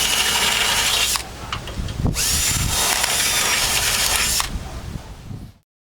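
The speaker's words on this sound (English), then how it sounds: "I'm going to run this half inch bit through the mount holes" A power drill with a half-inch bit reams out the mount holes of a Land Rover Discovery 2 front bumper, grinding steadily for about five seconds with brief dips between passes, then stopping.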